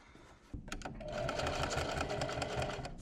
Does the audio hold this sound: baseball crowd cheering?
no